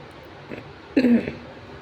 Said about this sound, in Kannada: ನಂಗೆ ಸ್ವಲ್ಪ ಕೆಮ್ಮು ಹತ್ತಿದ್ರಿ